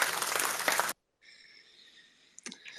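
An applause sound effect from a soundboard: a loud burst of clapping for under a second, then it cuts off abruptly into a quiet tonal hum and a few faint clicks.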